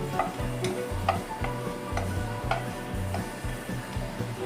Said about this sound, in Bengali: এরকমভাবে একটু তেলের সঙ্গে নাড়িয়ে দেব আমি